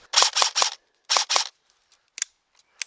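An E&L AK-74N airsoft rifle running on a 7.4V LiPo battery fires in quick, snappy bursts: two short volleys of sharp cracks close by, then a few scattered single shots.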